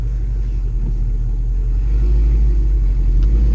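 A Chevrolet Camaro with headers and a full Corsa exhaust, driven in tour mode, gives a steady, loud low engine rumble inside the cabin that holds even and continuous without sharp revving.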